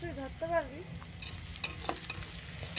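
Onions sizzle gently in a pan as they fry and are stirred, with occasional sharp scraping clicks from a utensil. A brief voice is heard at the start.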